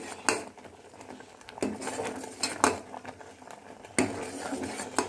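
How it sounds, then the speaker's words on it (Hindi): Rice kheer being stirred in a pot on high flame, a spoon knocking and scraping against the metal in several sharp clinks at irregular intervals over a soft bubbling background, no speech. "रेगुलरली इसे ऐसे चलाते रहें।"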